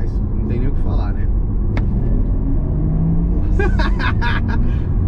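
A Porsche Taycan GTS electric car drives with a steady low road rumble and tyre noise throughout, a stiff suspension over uneven pavement, with brief higher tonal whines and faint sounds rising near the end.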